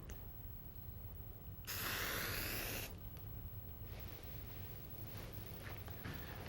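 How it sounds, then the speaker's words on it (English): A single hissing burst of silicone aerosol spray onto a balloon lasts about a second amid a steady background hum, close to the microphone. "spray the balloon with a silicone spray."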